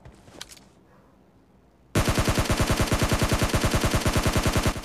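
In the video game PUBG Mobile, after a short quiet stretch, rapid automatic gunfire erupts and continues steadily, loud and close, with fast evenly spaced shots and no talking.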